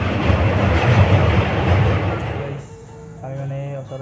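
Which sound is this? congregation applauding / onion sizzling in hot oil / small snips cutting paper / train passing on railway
train passing on railway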